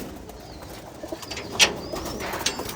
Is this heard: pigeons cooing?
yes